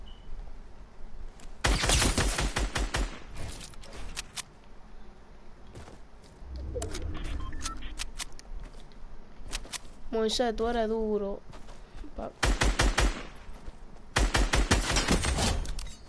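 Fortnite gunfire in dense rapid bursts, loud automatic volleys repeating across the scene with short gaps, while someone talks excitedly over and between the shots.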